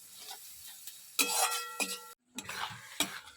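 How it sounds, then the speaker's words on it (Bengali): Mushrooms sautéed in a pan with peas, potato and cauliflower nearby, a few spoon scrapes and short sizzling bursts separated by brief pauses, close but fairly soft. "মাশরুমগুলো দিয়ে এবার একটুখানি কষাচ্ছি"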